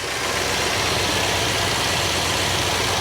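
A car engine idles steadily after its cooling system has been refilled, a continuous broadband rumble running loud and unbroken throughout with no talk over it.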